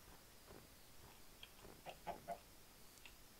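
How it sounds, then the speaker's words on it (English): A chicken in the game Minecraft gives a few quiet clucks in quick succession, faint and close against low background noise. "Chicken."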